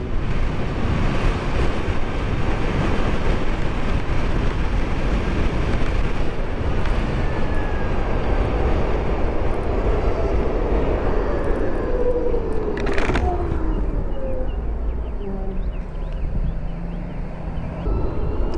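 Riding a BMW CE04 electric scooter at speed, with steady broadband wind rush and road roar throughout and a faint rising whine; no voices.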